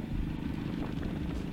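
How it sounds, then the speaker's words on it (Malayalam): A Jawa Perak motorcycle with a 334 cc engine idles nearby, its exhaust note a low, even, burbling rumble that holds steady throughout. "കേൾക്കാൻ നല്ലൊരു രസമുള്ളൊരു സൗണ്ടാണ് ഇതിൻ്റെ എക്സോസ്റ്റിൽ നിന്ന് നമുക്ക് കിട്ടുന്നത്"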